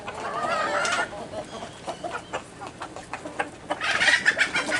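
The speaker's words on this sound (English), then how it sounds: "you hear that noise in there? Right there, that rooster." A rooster crows and clucks outdoors, a bright call at the start and another near the end with a quieter gap between, heard from a moderate distance.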